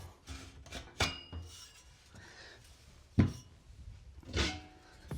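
Metal chimney sections being pulled off an Ozpig wood-fired cooker, a few scattered close scrapes, rubs and soft clanks spread over a quiet background, no talking.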